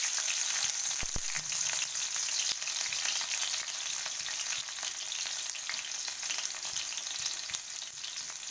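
Green chili and garlic frying in hot oil, making a loud, steady close-up sizzle and hiss that runs the whole time, with a brief clunk near the start.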